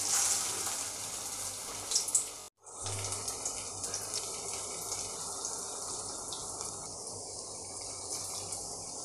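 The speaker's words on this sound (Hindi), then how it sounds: "सारे वड़े बनाने के बाद हमने यहाँ पे तेल को गरम कर लिया है अब इसके अंदर हम एक एक करके डाल देंगे" Spinach (palak) vadas dropped into hot oil give a steady, fairly loud crackling sizzle that cuts out for a moment early on, then carries on evenly to the end, with no voices.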